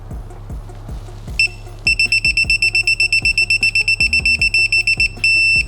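A digital torque wrench beeps repeatedly to signal correct torque on the oil drain plug of a 2015 Ford Mustang 2.3L EcoBoost, sounding a rapid run of short, loud, steady beeps and then one longer tone, over faint clicking.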